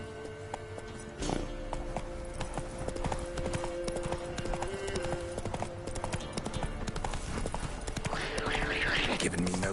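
Horse hooves clip-clop at a steady riding pace in The Witcher 3, with layered game ambience, occasional snorts and a voice speaking over the rhythmic hoofbeats.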